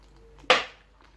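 A quick splash of water hits a bowl of gram flour and cornflour batter for chicken pakora, one sharp burst that fades within a fraction of a second in a quiet kitchen.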